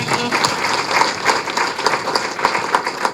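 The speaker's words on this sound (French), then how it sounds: "Donc on va nous applaudir nous-mêmes" Steady applause from a crowd at a ministerial visit, dense clapping that holds at an even level throughout without pause.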